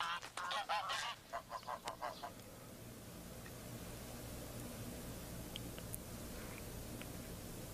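Greylag geese honk in a quick run of calls at the start, then it fades to quiet outdoor background.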